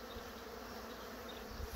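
Dense, steady buzzing of many honey bees in a bee yard close by, a continuous droning hum with no voices.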